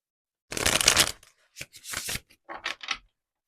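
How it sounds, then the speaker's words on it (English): Tarot cards riffle-shuffled up close: a long crisp fluttering burst, then several shorter shuffles and taps in quick succession. "these cards don't always shuffle smoothly"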